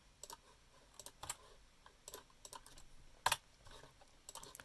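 Keys on a computer keyboard are tapped to enter a command, a quiet, irregular patter of single clicks with one sharper press near the end.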